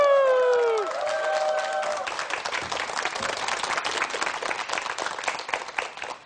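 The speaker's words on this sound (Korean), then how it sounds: "큰 박수 부탁합니다." An audience at a televised lecture claps after a coach is introduced, a dense crowd applause that swells in just as the host's voice ends and keeps going steadily for several seconds, fairly near and full.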